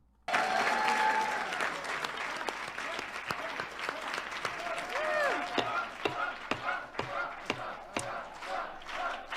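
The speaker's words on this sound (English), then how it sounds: "I assume you're all clapping along and chanting Trump at home with me" An audience at a hearing breaks into loud sustained applause that thins into scattered individual claps, with some crowd voices mixed in.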